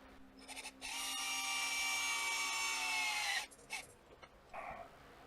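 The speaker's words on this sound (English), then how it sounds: "I'm going to drill a hole in this seal." A power drill bores a hole into a transmission shaft seal on a Harley-Davidson, giving a steady, loud, high-pitched whine for about three seconds, followed by brief clicks and a short second burst.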